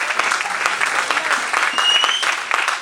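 A church congregation breaks into sustained applause and cheering, a dense wash of clapping with scattered shouts that holds steady throughout.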